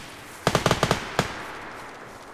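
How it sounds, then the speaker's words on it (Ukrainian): A rapid burst of six or seven sharp gunshots from a DayZ video game shootout, then a single shot a moment later, fairly close and loud, with no speech. "у наших ворогів почалася з ними перестрілка"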